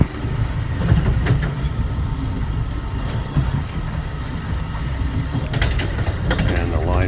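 An LIRR M3 commuter train runs along the rails in the early morning from Jamaica to New York Penn, giving a loud, steady rumble and wheel rattle with faint rail clicks, heard from aboard the train.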